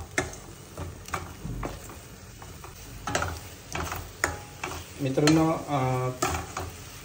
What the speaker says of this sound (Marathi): मसाला फ्राय होतोय